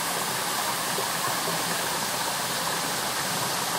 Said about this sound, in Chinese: 南投县中寮乡的龙凤瀑布